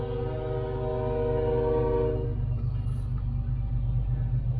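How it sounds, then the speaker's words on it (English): A train sits at a rural road crossing during a detour in Missouri, its horn blaring in steady sustained tones over a deep rumble for about two seconds, then the wheels and cars keep rolling past with a loud continuous roar. "and now I'm stopped by a train."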